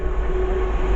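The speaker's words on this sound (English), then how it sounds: "Train passed by is a GBRF66 going from Trafford Pod GBRF to Wealdstone North GBRF" A GB Railfreight Class 66 diesel freight locomotive runs past a station platform at Harrow & Wealdstone, giving a loud, close, steady rumble with a sustained engine drone and no voices.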